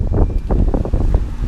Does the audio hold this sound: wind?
yes